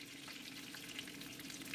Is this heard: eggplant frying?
yes